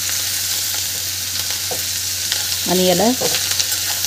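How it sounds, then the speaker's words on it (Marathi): Tandulja greens sautéing in a pan over medium heat, a loud, steady sizzle of frying with stirring scrapes throughout, and a brief spoken phrase near the end. "छान परतून घ्यायचं आहे"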